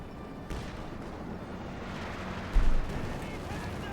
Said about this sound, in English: they've got the EC8 bombarding again there